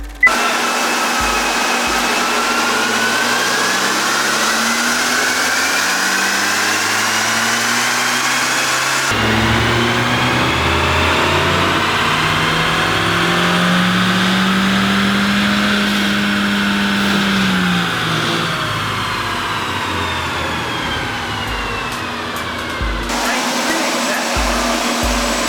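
A stock 2020 Kia Forte GT engine revs on a dyno in a steady, loud whine that climbs and falls through a long pull, followed by a sudden drop and a second surge near the end.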